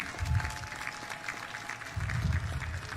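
Crowd applause at Mashujaa Day celebrations, a steady patter of many hands clapping at a distance, swelling slightly near the start and end.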